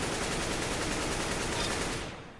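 Continuous rapid automatic rifle fire in Counter-Strike: Global Offensive recoil practice, a dense, loud, unbroken spray of shots that stops abruptly near the end, with no talking over it.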